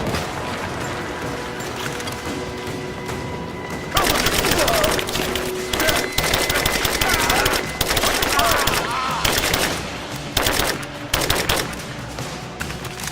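Gunfire in the video game Rise of the Tomb Raider: rapid automatic bursts start abruptly after a quieter opening and keep coming in loud, close volleys with brief gaps, while voices shout between them.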